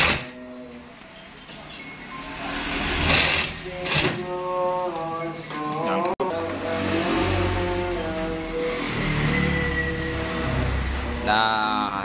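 A shoe sewing machine runs combination stitches on shoe material, its mechanical whir rising and falling in bursts. Someone speaks intermittently over it.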